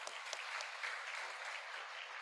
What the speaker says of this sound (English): Give applause to Professor Dr. Jusman Mansur.